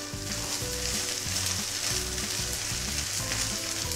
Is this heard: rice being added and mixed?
yes